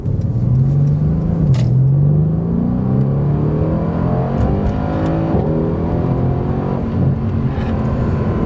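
A 2017 Mercedes-AMG C63 S Coupe Edition 1 in Sport Plus and automatic mode accelerates hard with a loud, close engine roar, climbing through the gears and blipping its revs on its own during a downshift.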